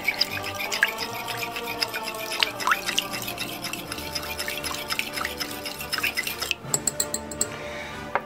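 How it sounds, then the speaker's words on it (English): Sugar and water steak marinade being stirred in a dish, with a spoon clinking and scraping in quick repeated taps and light liquid sloshing, close and alone. "Let's mix the whole thing."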